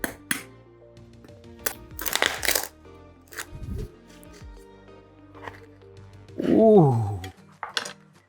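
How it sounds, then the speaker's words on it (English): A knife cuts into crispy Cebu-style roast lechon pork belly, giving a few sharp crackling crunches and clinks spread over several seconds, close and fairly loud, with a louder burst of crunching near the end. "We're gonna cut into it here real quick. You hear that? That's crispiness."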